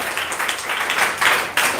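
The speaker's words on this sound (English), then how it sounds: "Big round of applause again." A Children's Day speech competition audience breaks into applause, a dense burst of clapping from many hands that swells in waves and stays loud for the whole moment, with no speech over it.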